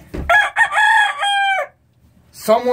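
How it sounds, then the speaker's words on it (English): A hen at a 4-H poultry showmanship event gives a loud, close, drawn-out crowing-like call in several pulses, then falls quiet before another short cackling burst. "This is another nice calm chicken."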